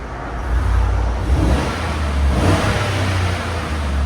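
A 2015 GMC Sierra SLT pickup with a 5.3L V8 and Borla Touring exhaust revs steadily and loudly, a deep low rumble that swells and holds for about four seconds with no talking.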